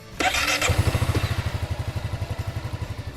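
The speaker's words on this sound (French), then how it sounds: "et le démarreur électrique" A Honda Forza 350 scooter engine cranks on its electric starter and catches, settling into a steady, fairly loud idle with a regular pulsing beat, close by with no talking.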